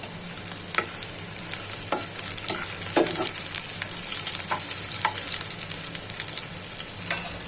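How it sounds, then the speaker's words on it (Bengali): Chopped onion and garlic fry in hot oil for a tempering, a continuous close sizzle broken by sharp clicks and scrapes of stirring, with no voices. "পেঁয়াজ আর রসুনটা যখন একটু লাল লাল হয়ে যাবে তখন আমি এটা টকে দিয়ে দেব"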